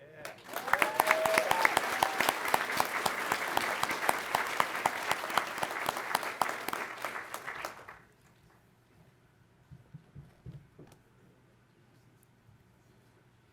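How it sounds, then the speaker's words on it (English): An audience at a pilot training graduation ceremony gives sustained, dense applause for the national anthem singer, which cuts off sharply after about eight seconds and leaves a quiet room with faint murmurs. "If we can give her a round of applause."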